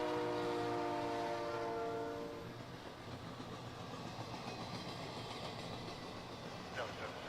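A short southbound train led by three ex-CNW locomotives sounds its horn in a long blast, then rumbles past with steady rail noise and clatter.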